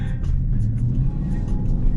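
A Mustang 5.0 engine rumbles steadily at close range, low and throaty, with slight swells in revs throughout.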